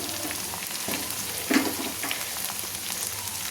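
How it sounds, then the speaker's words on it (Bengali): Potatoes fry in hot oil, giving a steady, moderate crackling sizzle with a brief louder spatter midway, heard up close without any talk. "আলুগুলোকে একটু লাল লাল করে ভেজে নিচ্ছি।"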